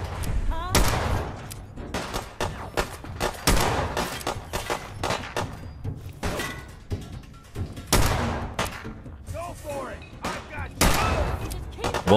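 Rapid gunfire in Fallout 4 on PlayStation 5, played in survival mode: dense, loud volleys of shots with booming, echoing reports crowding one another throughout, and a voice talking between bursts.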